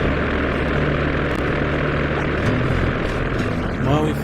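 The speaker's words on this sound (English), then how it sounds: "we forgot to turn the engines off" A plane's engines left running in the game Sly 2: Band of Thieves give a steady, droning mechanical hum throughout, with a faint tonal shift near the end.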